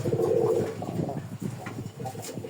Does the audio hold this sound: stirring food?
no